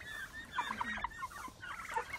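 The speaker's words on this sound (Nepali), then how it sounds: "हाम्रो यहाँ एमएनडीजीको नेताले यहाँ टर्की छान्दै हुनुहुन्छ है" Turkeys on a Nepali farm, raised for eating and about four to five months old, give a run of rapid clucking and gobbling calls, two bursts separated by a short pause, fairly close with no talking.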